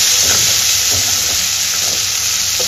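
Tomato dropped into a pan of eggplant, potato and onion already fried with salt and turmeric, giving a steady loud hiss and sizzle with faint clinks of stirring throughout; no voices.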